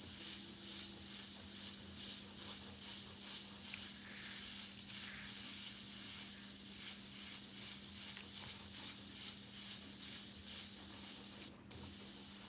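Iwata CM-SB airbrush spraying Createx paint, a steady close airy hiss running continuously with a faint constant compressor hum beneath, cutting off briefly near the end.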